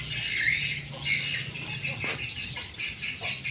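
Shrill, chirping swiftlet calls played from a recording through a small tweeter speaker at a swiftlet house, repeating in quick twittering bursts, high-pitched and fairly loud.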